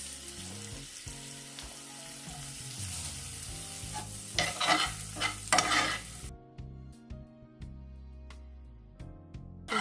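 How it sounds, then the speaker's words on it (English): Shrimp searing with garlic in a frying pan, a steady close sizzle with stirring and scraping that swells in the middle, then drops to quieter frying with occasional sharp clicks. "wash it, get a nice little sear on it"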